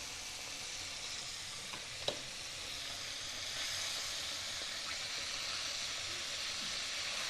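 Chicken pieces fry in hot oil with a steady, soft sizzle and hiss throughout, broken once by a small click.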